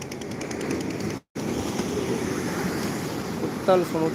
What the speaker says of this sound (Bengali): বৃষ্টির ওয়েদারে উত্তাল সমুদ্রে